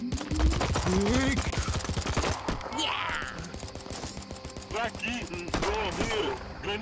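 Rapid gunfire bursts from a tactical war video game, Broken Lines, sharp repeated shots rattling over game music and effects, with someone talking and laughing through much of it.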